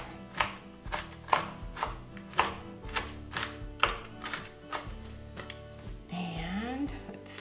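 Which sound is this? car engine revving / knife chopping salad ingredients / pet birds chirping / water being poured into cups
knife chopping salad ingredients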